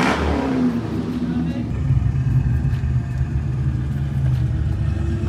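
A drift car's engine revs loudly with a throaty exhaust at a big drift event in Spain, the roar rising sharply at the start and then holding a steady rumble while people talk over it.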